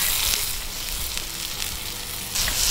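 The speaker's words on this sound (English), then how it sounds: "I'm gonna throw some of these onions in, just brown them up a little bit" Half a white onion sizzles steadily in a hot pan as it browns, a continuous bright crackling hiss with a brief stir or scrape near the start and a louder burst at the end.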